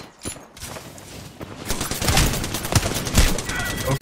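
Bursts of rapid gunfire in the shooter game Apex Legends, with a quiet stretch at the start and then loud, dense overlapping shots and impacts.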